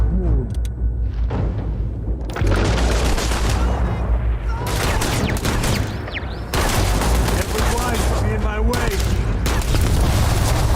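Starfield firefight with sustained gunfire and heavy turret shots, booming bursts and mechanical clatter filling the scene, loud and continuous, with a voice talking over parts of it.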